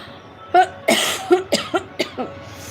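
A person coughs in a close, loud series of about seven sharp bursts over under three seconds, with no talking.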